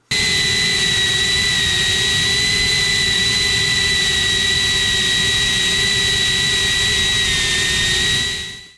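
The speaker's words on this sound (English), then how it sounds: "the motor noise becomes more predominant in the audio recording" A small FPV quadcopter's motors whine loudly and steadily up close, with high, sustained tones that hold evenly before cutting off at the end.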